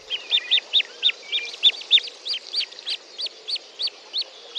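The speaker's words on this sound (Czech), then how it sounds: "Život na hladině vody je veselější než v dutině stromu a tak si kachňátka na vodě neustále vesele povídají." Common goldeneye ducklings call constantly on the water, giving a rapid run of high, thin peeping notes that are fairly close and faint, with no talking.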